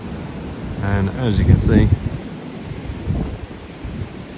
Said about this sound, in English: It's a really windy day today